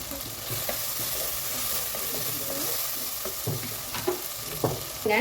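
Tomatoes sautéing in a pan for a dal and greens dish give a steady close sizzle, broken by occasional spoon scrapes and clinks, with no one talking.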